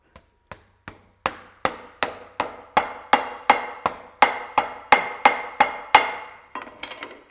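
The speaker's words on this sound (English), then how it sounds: "And then we need the rivets to go through the holes, and then I'm going to hammer the whole thing." Rivets are hammered through holes with about fifteen sharp metallic strikes at a steady, slightly quickening rhythm, each ringing briefly, close and loud, with no talking.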